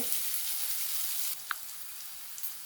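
Chopped onions frying with a little salt produce a quiet, even hiss of sizzling that drops slightly midway, with a single faint tap.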